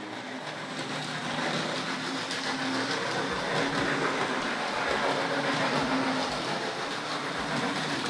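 Continuous rumbling and clattering of a Hornby Dublo model train running along its track, steady and fairly loud throughout with no voices.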